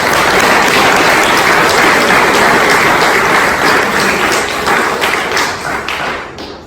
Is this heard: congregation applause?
yes